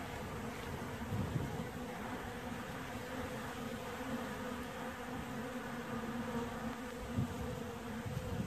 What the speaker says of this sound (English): Lovely hum of bees.